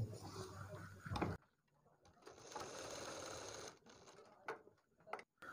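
Close, low-level stitching from a sewing machine on a kurti neckline: a short burst, a pause, then a longer steady run of about two seconds, ending in scattered clicks.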